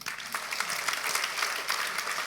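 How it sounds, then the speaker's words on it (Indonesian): Church audience clapping during a sermon, a brief patter of scattered hand claps, fairly faint and distant, with no talk over it. "tepuk tangan."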